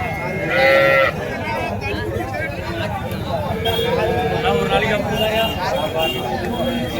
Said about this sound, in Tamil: இதெல்லாம் பார்த்தீங்கன்னா நல்லா அருமையான வளர்ப்பு குட்டிங்க பாருங்கள் ஹெச்எஃப் குட்டிங்களே இருக்குது பாருங்கள்